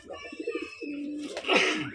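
Pigeons kept in an enclosed indoor loft give a run of close, throaty coos, then a longer drawn call and a brief flurry, loud and near with no talk.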